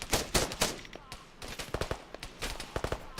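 Bursts of automatic gunfire and single rifle shots in Arma 3 military simulation training, rapid cracking volleys close by with short pauses between them.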